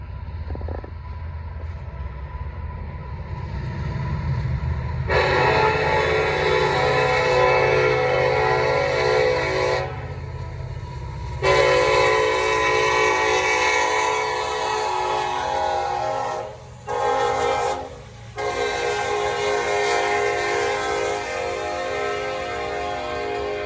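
Norfolk Southern freight train 154 passing northbound at night on the Charlotte District, a low rumble followed by long, loud blasts of a chorded horn with brief gaps between them.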